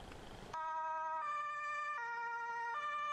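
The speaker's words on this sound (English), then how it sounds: "those sirens were unfortunately phased out in the Netherlands" A loud two-tone Dutch emergency vehicle siren from the video game Emergency 4 alternates steadily between high and low pitches, starting abruptly after a brief burst of noise and sounding close.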